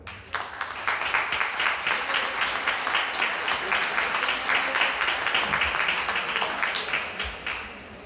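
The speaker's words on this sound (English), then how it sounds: "can we give a big round of applause for the family of the late," Crowd applause at a Louisville Dirt Bowl Hall of Fame awards ceremony honoring a late inductee's family, dense sustained clapping from many hands holding steady for several seconds before tapering off.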